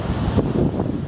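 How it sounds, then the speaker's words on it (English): Ocean waves rolling onto a beach in Oman during a sandstorm, with low-pressure swell driving them. Strong wind buffets the microphone in a steady broadband roar, and the surf wash is blended beneath it. "Waves, unusual."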